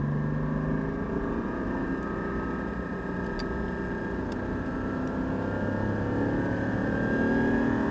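A Porsche 718 Cayman GT4 revs high and roars steadily as it accelerates on the Le Mans circuit, a loud continuous drone with rising tones and no voices.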